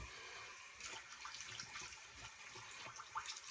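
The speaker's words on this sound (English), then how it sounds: "I do a cold water rinse, which I'm going to do now." Cold well water runs for a rinse, a faint, close, steady trickle and splash from a tap with slight surges, heard alone without speech.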